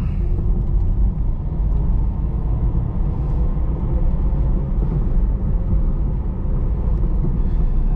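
Car engine pulling hard after a shift from second up into third gear, a steady, loud low rumble that holds without a break for the whole stretch, with no voices over it.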